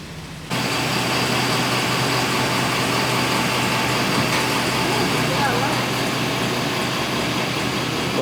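A vehicle engine rumbles steadily and close by as a ride pulls up before dawn at Haleakala volcano, a continuous broadband drone starting abruptly and holding level throughout.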